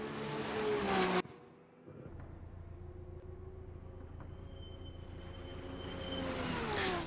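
A Mercedes SLS race car in a racing video game at Interlagos drones past with a steady engine note, which cuts abruptly before resuming and building louder toward the end.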